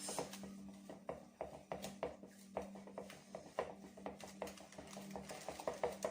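Eggs, oil and orange blossom water stirred together for crêpe batter, a utensil clinking and scraping against a bowl in a steady irregular rhythm, close and fairly quiet, with no talking.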